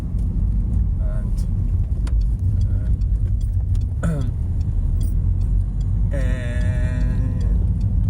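A Citroen C3 1600HDi diesel hatchback drives along, its engine and road rumble steady and close throughout, with someone talking over it inside the cabin.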